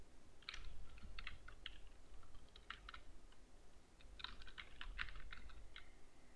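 Bursts of computer keyboard typing, entering watermark text for a PDF in Adobe Acrobat Pro DC: quick clusters of key clicks with short pauses between, close and clear over a low steady hum.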